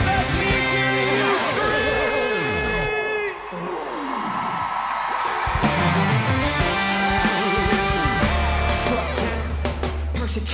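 At a live worship concert, the crowd screams and cheers loudly over sustained band music and sung notes, a dense roar that briefly dips before swelling again.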